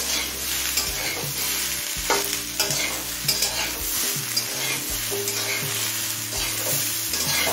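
Mixed vegetables for a Bengali panchmishali torkari fry in a pan with a steady, close sizzle, broken by repeated scraping stirs at an uneven rhythm; no one speaks.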